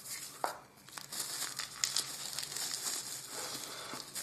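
Plastic packaging from an UltraFire flashlight ordered from AliExpress crinkles and rustles steadily up close, with sharper crackles and a brief tearing sound, no voices.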